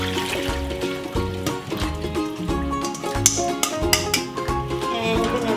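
Water pours and trickles steadily as softened egg noodles are drained in a home kitchen, with a continuous gurgling stream, some background music and a few sharper splashes toward the end.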